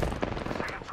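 Rapid automatic gunfire in an Apex Legends firefight, dense overlapping shots filling the whole moment at close range with little pause between bursts.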